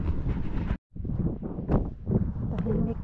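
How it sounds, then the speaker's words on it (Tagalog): Strong wind buffets the microphone in steady, rough gusts while a person talks over it, with one brief dropout near the start. "Malakas lang talaga ang hangin, Mars"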